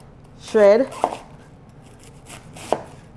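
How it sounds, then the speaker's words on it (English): A knife shreds a head of cabbage on a cutting board for Southern fried cabbage: a few crisp, separate chops, close and clear, with a short hummed voice near the start. "So I'm just going to shred."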